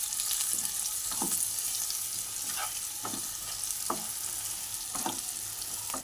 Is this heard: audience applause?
no